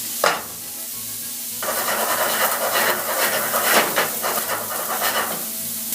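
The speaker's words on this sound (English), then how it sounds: "I'm going to cook these vegetables until they're light brown." Vegetables frying in clarified butter in a metal pan, a steady close sizzle with bursts of louder crackle and stirring scrapes throughout.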